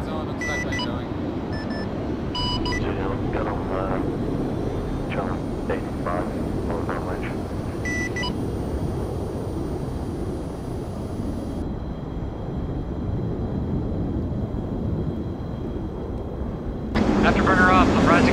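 Jet engine spooling up in the ArmA 3 video game, a steady loud roar that holds throughout and rises sharply near the end, with game radio chatter and other mechanical tones layered over it.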